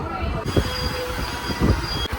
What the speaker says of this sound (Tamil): ட்ரெயின் அப்படியே போயிடும் பார்த்துக்க